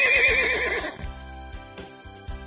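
A horse whinnies loudly in the first second, a shaky high neigh over background music with regular thumping beats that continues after the call fades.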